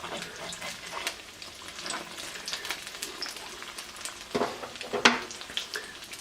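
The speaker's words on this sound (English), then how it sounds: "Make sure your pan's very hot and you're evenly over the flame so the egg cooks the same all the way around." Egg foo young frying in a very hot pan over a flame, a crackling, rain-like sizzle with scattered pops and a couple of sharper spatters near the end, close and moderately loud.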